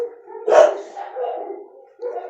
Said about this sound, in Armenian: չգիտեմ ինչի են հաչում